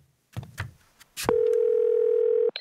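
A few soft handling clicks and taps, then a telephone dial tone sounds as a call is placed, a steady clear tone holding for over a second before cutting off abruptly.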